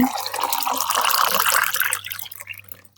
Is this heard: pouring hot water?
yes